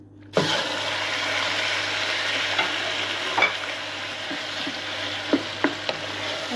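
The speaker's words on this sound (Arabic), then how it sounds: "هنقلبها شوي مع الزيت" Minced meat sizzling and frying steadily in a pan of oil for kibbeh, with a utensil stirring through it and a few sharp scraping clicks; continuous and close, with no talking.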